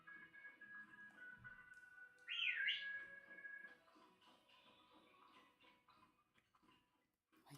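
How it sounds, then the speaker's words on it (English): A short whistle sound in the Pokémon Shield video game rises and wavers near mid-clip, set against quiet background game audio. "I think that whistle is because I'm accidentally pressing the joystick."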